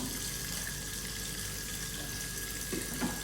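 Young children washing dishes at a sink under running water, a faint, steady tap stream with occasional soft clinks of dishes near the end.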